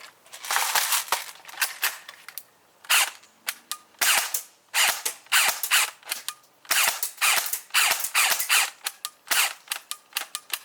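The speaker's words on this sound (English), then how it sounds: "let's go charge this battery, power this guy up, see what the chronograph's at," A cheap electric airsoft rifle firing, a long run of sharp snapping shots in bursts and singles with brief gaps, each crack followed by a mechanical clatter, close and loud with no talk.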